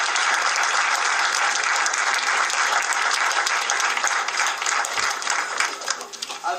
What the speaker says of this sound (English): I think these young men and women deserve a big round of applause